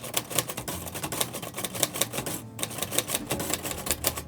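Typing on a 1942 Royal Quiet De Luxe manual typewriter, a fast, steady run of loud, close keystrokes clacking with mechanical rattle, with a brief pause partway through.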